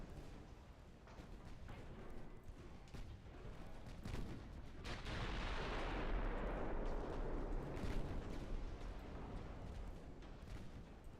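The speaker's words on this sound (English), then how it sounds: "That torpedo looks like it has bad intentions. Oh, it detonated." A torpedo detonates in the naval video game Ultimate Admiral Dreadnoughts with a rumbling, roaring blast that swells midway and lingers as a dense, fairly quiet wash of noise, with no voices.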